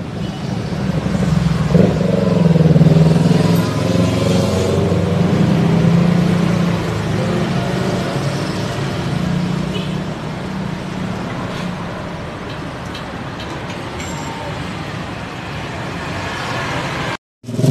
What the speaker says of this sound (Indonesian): waduh banyak motor